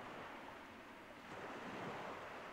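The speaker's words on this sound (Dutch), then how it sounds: "wordt het geluid van de golven steeds harder" Ocean waves rolling onto a beach make a steady, full surf roar with slight swells in loudness, continuous throughout with no voices.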